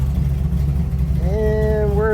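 The engine of a Pontiac Firebird with a clutch fan idles in a driveway under a steady, loud low rumble. A faint rising whine comes in near the end.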